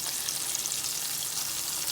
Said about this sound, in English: the grease is hot, it's sizzling. So, and you can hear the sizzling, so it's going to get a good fry,